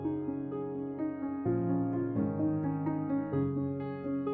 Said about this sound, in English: the main sample is this piano loop I found